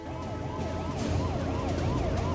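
An ambulance siren wails continuously in rising and falling sweeps, loud and near, over a low rumble of road traffic, with no voices.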